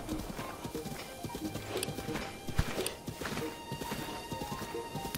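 Hooves clip-clop at a gallop with an occasional whinny from a horse in Zelda: Breath of the Wild, a steady rhythmic beat under game ambience.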